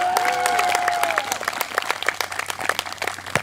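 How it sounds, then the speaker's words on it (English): Audience applause at a spring community event, a dense patter of many hands clapping steadily for several seconds, with a faint voice and a brief tonal sound near the start. "One more round of applause for them."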